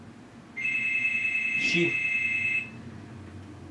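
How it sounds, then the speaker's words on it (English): A home doorbell rings during an online jujitsu class as a steady electronic tone held for about two seconds at moderate volume, with a brief voice in the middle and quiet background before and after. "my doorbell is ringing"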